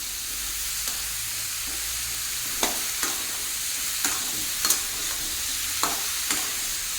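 Chopped bottle gourd is stirred into fried potatoes in a pan for a prawn, gourd and spinach dish, with a steady close sizzle and spatula scrapes against the pan coming every second or so.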